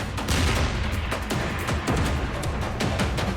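Rapid booming fire from an M1 Abrams tank's 120 mm gun, shells striking targets, dense overlapping blasts and rumbling impacts in a continuous loud barrage.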